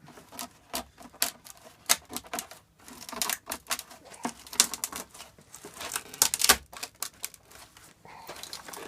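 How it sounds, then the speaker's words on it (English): A moulded fibreglass part for a BMW R80 cafe racer cracks and snaps as it is forced out of its mould, giving a sharp, irregular series of close crackles and pops with short quiet gaps between them. "You can hear that cracking noise is the unit actually breaking away from the mould"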